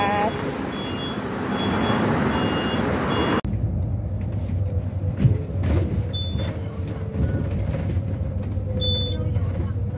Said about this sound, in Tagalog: Yan, yung sasakyan namin bus.